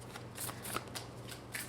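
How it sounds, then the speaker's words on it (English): Tarot cards being shuffled by hand, a few soft riffling bursts and flicks in a quiet room. "So I ask that you be patient with me in the shuffle."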